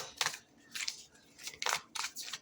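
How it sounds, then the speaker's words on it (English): Tarot cards riffle and slap together in several quick bursts, close and fairly soft, with short pauses between shuffles. "Shuffle for Aquarius."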